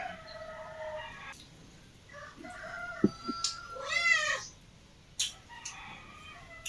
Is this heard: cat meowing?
yes